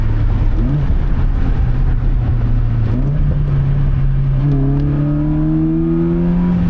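Honda Fit engine, fitted with a brake booster delete, blipping up in revs during a heel-toe downshift: a steady in-cabin drone followed by a rising rev swell, with no talk.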